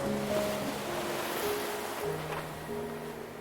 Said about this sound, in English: These waves are not insignificant.